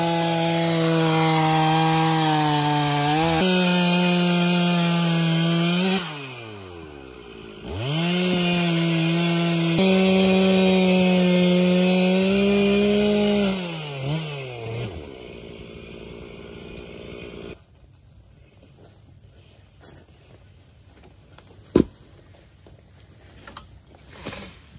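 A chainsaw cuts through wood, engine droning steadily under load with pitch dips as the chain bites, then the saw idles down and stops, leaving quiet with a few outdoor knocks.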